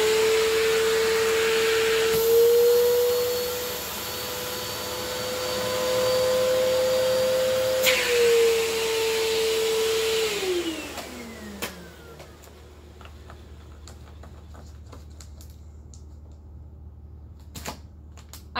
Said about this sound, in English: Now, I'm going to get the vacuum.